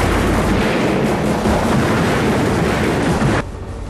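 Heavy gunfire pours into a shack during a shootout in the movie The Revenger, a dense, loud, continuous barrage of overlapping shots and booms that drops away abruptly near the end.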